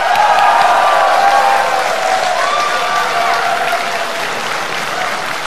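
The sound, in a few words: audience applause at presidential debate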